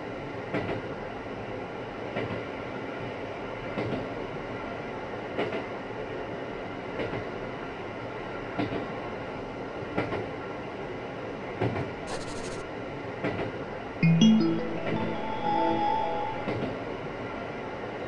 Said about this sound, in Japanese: This is a 山手 line train bound for 新宿 and 池袋。